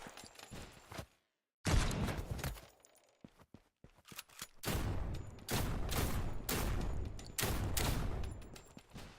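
Gunfire from a top-down video game in development: a short burst, a sudden silence, then scattered shots that build into loud, sustained volleys of rapid fire.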